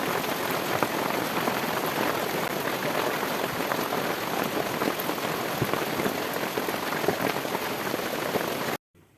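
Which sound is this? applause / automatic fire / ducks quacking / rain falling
rain falling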